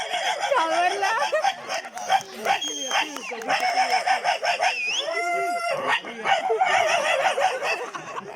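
A male mimicry artist imitates a dog with his voice, producing repeated yapping barks and yelps mixed with snickering laughter and chatter, close and fairly loud throughout.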